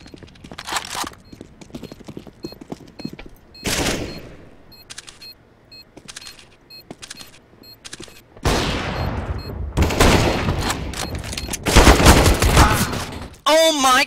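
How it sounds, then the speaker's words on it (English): Gunfire in the video game CS:GO: scattered single shots and short bursts crack out, then a dense stretch of rapid firing and loud blasts, with brief gaps between volleys. "Got shot from behind!"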